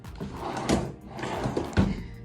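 Storage drawers under a queen-size bed frame in a Jamaican rental house sliding open and shut, giving a few soft wooden thumps and rumbling slides at close range, with no voices present.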